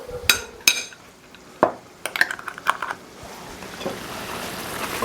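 Dijon mustard being stirred into tarragon chicken in a pan, with a few sharp utensil clinks against the pan followed by softer scraping and mixing.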